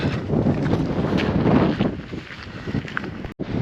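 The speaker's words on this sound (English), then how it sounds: "A little bit windy today." Strong wind buffets the microphone with a loud, rumbling roar that eases off toward the end.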